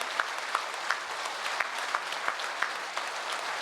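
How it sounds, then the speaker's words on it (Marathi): A large audience claps steadily together with hands raised, a dense sustained wash of applause with a few sharper individual claps standing out, no voices over it. "जोरात जोरात टाळ्या वाजवा."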